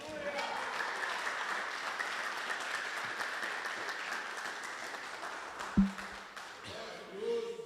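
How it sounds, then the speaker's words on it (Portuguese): Church congregation applauding steadily for several seconds, a dense wash of clapping that fades out near the end, with a brief thump and some voices afterward. "E a igreja aplaude o Senhor."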